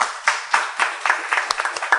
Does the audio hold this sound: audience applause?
yes